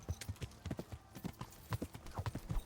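Horse hooves in a medieval video game set around Skalitz, a quick rhythmic clip-clop of galloping beats, close and steady throughout with no talk.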